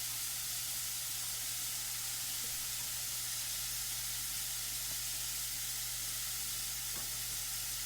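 A ginger garlic mix sizzles steadily in a pan while cooking teriyaki chicken, a soft continuous frying hiss with faint occasional stirring ticks, heard alone without talk.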